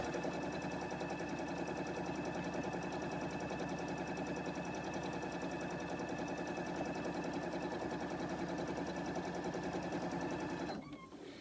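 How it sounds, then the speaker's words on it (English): A sewing machine runs steadily at close range, stitching a pillowcase seam its full length in one continuous, unbroken whir that cuts off near the end. "we're going to sew that full length"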